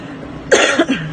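A single close, sharp cough breaks a quiet moment, trailing off into a brief throaty rasp.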